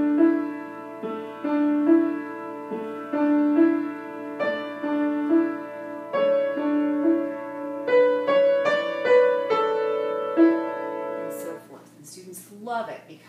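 Solo piano plays a gentle beginner piece, a peaceful melody over a repeating left-hand pattern, clear and close with notes ringing out.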